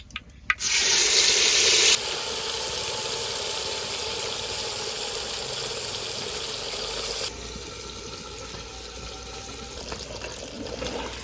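A sudden loud hiss as mutton hits hot oil in a clay pot, then a steady sizzle that eases slightly partway through and continues to the end.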